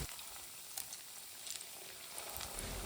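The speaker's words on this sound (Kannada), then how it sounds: "ಹಾಗೆಯೇ ಉಳಿದ ಎಲ್ಲ ವಡ ಫ್ರೈ ಮಾಡಿ ತೆಗಿತೀನಿ" Puffed rice vadas frying in hot oil, a faint, steady sizzle and crackle with small pops scattered throughout.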